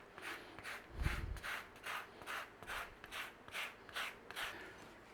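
Mandarin oranges zested by rubbing inside a bag, a steady rhythmic rasping scrape repeating about twice a second, close and fairly quiet, with one low thump near the start.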